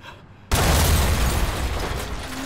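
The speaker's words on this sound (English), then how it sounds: "Really? An explosion?" A sudden loud explosion bursts in after half a second of quiet, a dense, roaring boom that sustains as a broad rumbling wash for the remaining two seconds.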